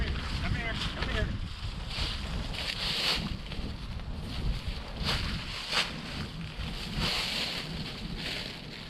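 Steady wind buffeting a microphone at a hammock campsite in Jackson-Washington State Forest, with low rumbling gusts swelling and easing over several seconds, close and fairly loud.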